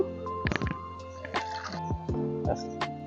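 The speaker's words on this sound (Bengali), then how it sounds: "এই যে এটাকে ভালোভাবে নিংড়াবো ধুতিটাকে আর ভালোভাবে নিংড়াবো বন্ধু" Water dripping and splashing from a wet cotton dhoti as it is wrung out by hand before ironing, irregular close drips and gurgles, with a voice speaking at times.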